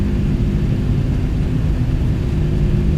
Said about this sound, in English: Engine noises are much better now on the MD-11.